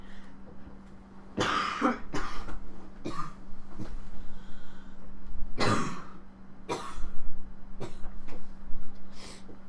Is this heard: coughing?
yes